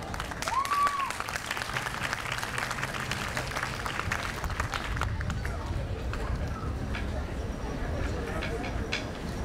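Applause breaks out at a US citizenship naturalization ceremony on World Refugee Day, a steady crowd clapping through the whole stretch with a brief whistle near the start and some talk mixed in.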